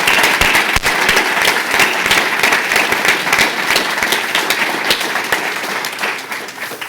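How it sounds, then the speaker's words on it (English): Audience applause at a breakfast event, dense clapping from a large crowd sustained for about seven seconds, loud and close, tapering slightly at the end. "please applaud loudly so that my speechwriter still knows she has a job"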